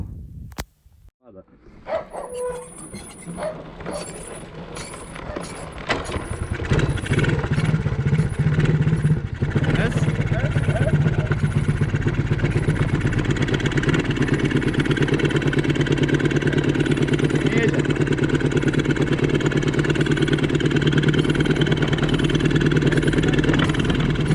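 A quad ATV engine that dies at higher revs sputters and then settles into a steady, loud running drone that continues to the end.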